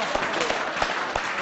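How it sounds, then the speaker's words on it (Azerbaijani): Applause from a studio audience at a televised Azerbaijani singing show, a dense steady clatter of clapping running throughout with no talk over it. "Bir alqışlar Aytən xanım üçün"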